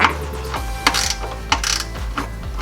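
A ratchet clicks in short bursts while 13mm bolts come off the fuel filler neck of a Chevy Avalanche, with several quick rapid-fire runs of close metallic clicking and brief pauses between them.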